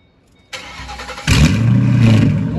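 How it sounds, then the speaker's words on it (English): A Ford Mustang with a 3-valve V8 and a loud aftermarket exhaust cranks briefly, then fires up with a sudden roar and settles into a loud, rumbling, close-up idle. "Now we got that 3-valve going."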